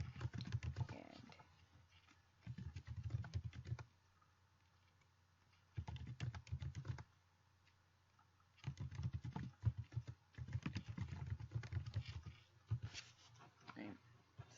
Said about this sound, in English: So there, I type that in